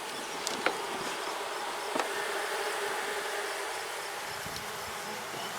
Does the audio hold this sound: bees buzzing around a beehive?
yes